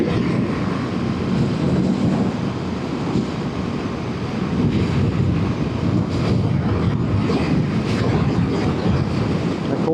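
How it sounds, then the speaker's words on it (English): Steady, gusty wind buffets the microphone outdoors, a constant rumbling roar that lasts the whole time with no voices. "It's so windy today."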